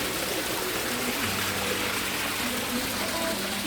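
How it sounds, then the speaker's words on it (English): Water from a koi pond filter pump runs steadily through a moving bed filter with K1 and K3 media, a continuous close trickle and splash with no breaks. "That's our moving bed with the pump running."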